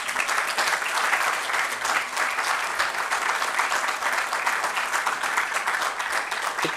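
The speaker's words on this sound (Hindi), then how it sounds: "थोड़ा इसके लिए भी ताली बजा दो।" Audience applause at a national awards ceremony, dense sustained clapping from a large crowd, even and continuous with no speech over it.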